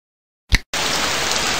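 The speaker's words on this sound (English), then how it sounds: "Heavy rain." In the children's video game Sammy's Science House, a short thump, a brief gap, then a steady wash of heavy rain that continues evenly to the end.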